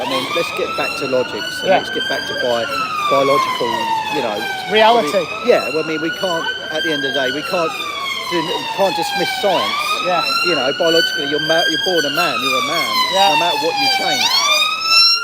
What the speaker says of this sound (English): That's an ambulance going past